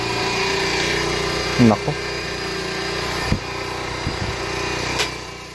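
A motorcycle engine idles steadily as it runs a generator through a cheap inverter to power a light, a constant low drone with a few brief knocks, while a person speaks briefly over it.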